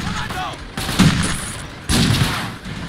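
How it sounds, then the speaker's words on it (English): Gunfire from a stationary machine gun in the World War II strategy game Faces of War, heard as two loud bursts of shots with other battle noise behind them. "stationary machine gun which you're wielding like a true hero of the Soviet Union"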